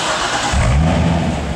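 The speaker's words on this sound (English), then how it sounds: "we want to turn the engine on so you can hear the dual mode exhaust" A 2008 Chevrolet Corvette LT4 convertible with dual-mode exhaust cranks and fires up about a third of the way in, settling into a deep, loud, close-up rumble after a short stretch of quieter background.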